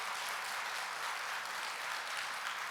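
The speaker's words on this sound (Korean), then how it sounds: "우리 고등부를 위해서 박수 한번 부탁드립니다." Applause for a high school youth group at a church Friday prayer meeting, a steady wash of many hands clapping that holds evenly for the whole stretch, moderately distant.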